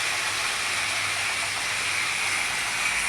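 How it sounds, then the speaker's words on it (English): A Tri-ang Transcontinental model locomotive with a chuff tender runs on its track, giving off a loud, unbroken hiss with a faint low hum underneath, close by and without speech. "You can probably hear that chuff tender in this Transcontinental loco"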